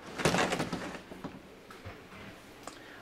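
The sliding toilet door of a Chausson 611 Travel Line motorhome rolls along its track with a clattery knock and rattle, then a few fainter taps as it settles, heard close up.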